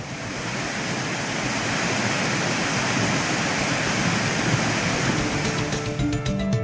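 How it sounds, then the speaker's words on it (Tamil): The main waterfall at Kuttralam, swollen to flood after days of heavy rain, pours in a steady, loud, unbroken roar of rushing water with no voices. "தொடர் மழையால் குற்றாலத்தின் பிரதான அருவியில் மீண்டும் வெள்ளப்பெருக்கு ஏற்பட்டுள்ளது"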